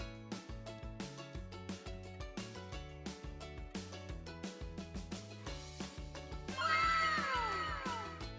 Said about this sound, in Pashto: بسة